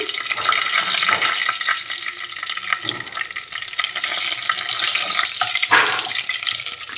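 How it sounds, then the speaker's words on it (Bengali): Bay leaves sizzle in hot oil in a home kitchen pan, a steady bright crackle lasting throughout with a few louder spits, ahead of cinnamon going in for an egg curry. "এবার আমি তেলের ওপরে তেজপাতা দিয়ে দিলাম"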